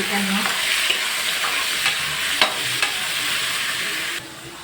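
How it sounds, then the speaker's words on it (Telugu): Chicken pieces sizzle steadily in hot oil with onion and green chillies for a chicken curry, broken by a few sharp clicks and scrapes of a spoon stirring the pan, close and fairly loud with no talking, until the sizzle drops away near the end. "చికెన్ అంతా ఇలా వేసిన తర్వాత దీన్ని మళ్ళీ ఒకసారి బాగా కలుపుకోవాలండి."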